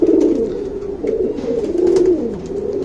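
A pair of flying pigeons, a smoky-coloured male and a copper-red female, coo repeatedly up close in loud, throaty, rolling phrases with short gaps between them.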